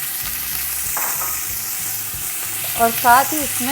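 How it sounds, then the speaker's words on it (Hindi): Meat frying with browned onions in a pot for Afghan Kabuli pulao, a steady sizzle with stirring scrapes underneath a voice speaking briefly near the end. "अब इस स्टेज पे गोश्त शामिल करेंगे"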